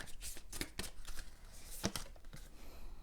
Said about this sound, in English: let me just shuffle all the cards and then I'll talk about that card